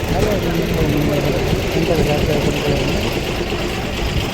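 A KKRTC bus engine idles at the Yadgir bus stand, a loud continuous low rumble that fills the scene, with voices in the busy station around it.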